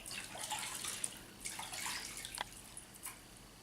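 Water runs from a tap over hands to rinse away acetone, a soft, fairly faint splashing wash with a few drips, heard close up without speech.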